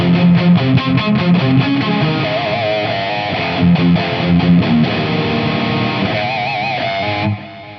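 Distorted electric guitar played through a Fender Tone Master Pro on a 5153 amp preset with built-in half-stack cabinet, digital delay and large plate reverb. Chugging palm-muted riffs give way to sustained melodic notes, ending in a reverberant tail.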